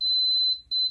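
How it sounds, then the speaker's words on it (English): A heat press beeping: a shrill, steady electronic tone, one long beep, a brief gap, then a second beep, loud and close with no talking. "Once it does, it'll start beeping again."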